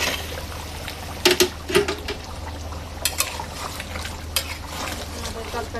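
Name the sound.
stirring meat curry in a pot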